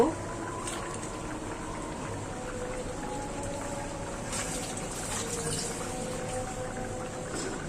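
Fish curry with melted eggplant and potato boils in a pan, giving soft continuous bubbling and popping with faint clinks, heard fairly close under quiet background sounds.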